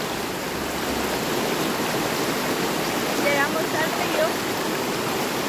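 River water flowing steadily nearby as a continuous broadband rush, with a brief spoken word partway through.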